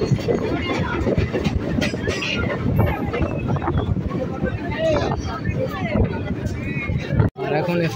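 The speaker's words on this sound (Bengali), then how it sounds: "আমাদের ট্রেনটা এখন ঢুকলো বাঘাযতীন স্টেশনে" Barasat to Canning local train running into Baghajatin station near Kolkata, a loud continuous rumble and rattle of the carriage with wind buffeting, crowd chatter mixed throughout, and a brief dropout near the end.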